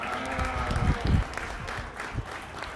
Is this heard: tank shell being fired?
no